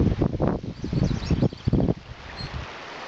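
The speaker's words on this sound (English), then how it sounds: "Here comes that wind, hope you can hear me." Wind blows outdoors across a campsite in gusty, rumbling bursts that buffet the microphone up close, surging and easing over a few seconds.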